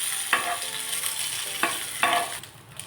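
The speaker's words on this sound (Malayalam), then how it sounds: "ഇനി നമുക്ക് വറ്റൽമുളക് ചേർത്ത് കൊടുക്കാം." Dried red chillies dropped into hot coconut oil with mustard seeds, a steady sizzle punctuated by a few sharp bursts as ingredients hit the pan, close and alone.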